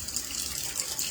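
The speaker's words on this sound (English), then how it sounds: "I've got my water running so it'll get warm." Tap water running steadily into a sink during a morning skincare routine, a continuous close hiss and splash with no talking.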